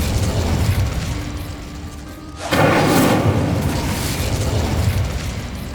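The Incendio fire spell is cast in the video game Hogwarts Legacy: a sudden whooshing burst of flame, loud and close, erupts after a low rumbling ambience and then sustains as a roaring crackle.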